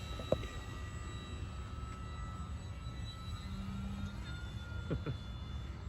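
An E-flite 850mm Pitts S-1S RC model plane flies overhead with a faint, steady electric motor whine that rises slightly as the throttle is advanced, heard from a distance over outdoor background noise.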